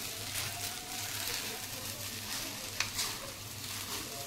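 Soft sabudana khichdi stirred in a kadhai with peanut powder, giving a low continuous scraping and faint sizzle, with one brief clink of the spoon midway and no talking.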